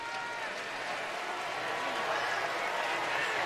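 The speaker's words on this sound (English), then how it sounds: "Baylor fans down below us cheering for Charlie Brewer as they put him on the golf cart to take him off the field" Baylor football fans in a stadium cheering, a broad steady roar of a distant crowd with faint clapping, swelling slightly, under a nearby voice talking.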